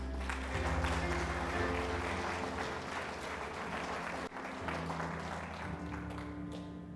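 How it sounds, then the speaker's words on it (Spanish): A church congregation applauds during a sermon, with steady, dense clapping filling the room over a low hum throughout. "¿Cuántos aplauden a Cristo?"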